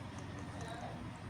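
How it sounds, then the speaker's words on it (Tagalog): A single short cough bursts out abruptly at the very end, close and fairly loud, after a stretch of quiet room tone. "Inuubo na tuloy ako"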